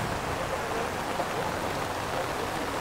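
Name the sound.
rain falling outdoors on a farm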